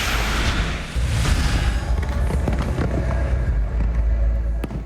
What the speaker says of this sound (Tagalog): Pinakamalaking fireworks display sa Pampanga, dinayo ng libu-libong katao.